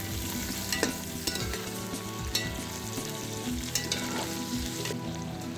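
Meat, onion and chopped vegetables fry in a hot kazan with a steady, close sizzle, broken by sharp scraping knocks of a utensil stirring the pot.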